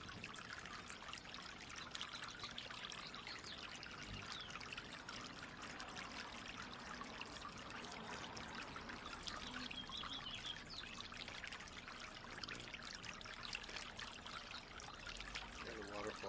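A small waterfall at sunset in Palm Springs gives a steady, soft pour of moving water, even and continuous throughout, with no voices over it.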